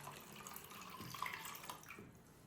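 Water runs into a cooking pot holding jars of mixed vegetable winter pickle, a steady close pouring and trickling with no voices.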